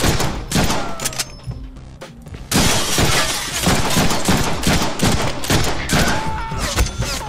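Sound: gunfire in the Deadpool video game

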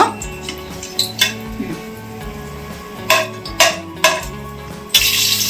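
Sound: frying spices on medium flame for mushroom biryani

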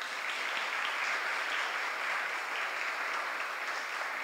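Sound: audience applause welcoming guest Maripili Alonso

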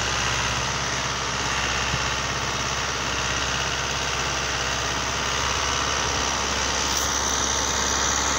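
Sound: Euro Ford 5880 tractor engine running at normal revs

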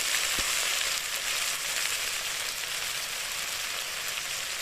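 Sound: ginger garlic chilli spice paste frying in a pan

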